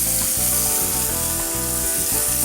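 Chicken pieces frying in a pan for chicken curry, with a loud, steady sizzle and crackle that carries on throughout, broken by brief stirring or shifting sounds in the pan.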